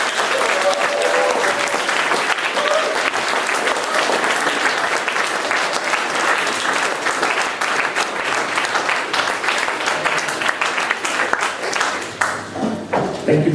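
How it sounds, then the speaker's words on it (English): A conference audience applauds steadily for about thirteen seconds, dense clapping spread across the room, with scattered voices and cheers underneath as it tapers near the end. "a big round of applause to Andrei Popescu"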